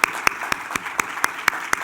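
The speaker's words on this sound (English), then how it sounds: "Please give them a round of applause." Sparse claps from an audience at a leadership conference session, eight sharp hand claps spaced evenly about a quarter second apart, moderately near and isolated rather than a full ovation.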